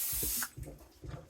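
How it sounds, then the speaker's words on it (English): Cooking spray is squirted onto a regular-size loaf pan for banana bread: a short, close hiss lasting under half a second, then a few soft knocks and clunks as the pan and can are handled. "I'm going to go ahead and use this cooking spray on our loaf pan."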